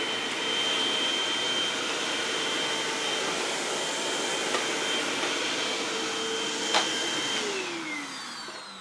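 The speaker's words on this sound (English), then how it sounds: "Let's see how the Hoover does on the large clumps of hair." A Hoover vacuum cleaner sucks up large clumps of hair with a loud, steady roaring whine, a couple of brief pops as clumps pass through, and no talk.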